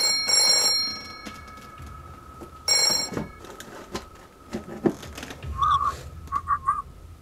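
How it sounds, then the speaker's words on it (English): A telephone ringing in another room in repeated electronic trilling bursts, with shuffling movement and knocks in between and a few faint chirps toward the end. "A phone starts to ring,"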